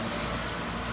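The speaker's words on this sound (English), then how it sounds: "sorry for the traffic noise" Road traffic noise of passing cars and trucks, a steady, dense rumble of vehicles filling the whole second without a break.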